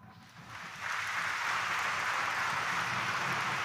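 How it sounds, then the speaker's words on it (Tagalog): A church congregation at a Sunday morning Mass in Quiapo, Manila, breaks into applause, the clapping swelling within the first second into a dense, steady roar that fills the large space. "Kaya lahat ng mga manggagawa, pumalakpak nga."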